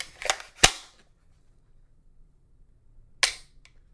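Trigger of an FN SCAR 15P rifle dry-fired, sharp close metallic clicks: a quick pair of snaps, then after a pause a single reset click.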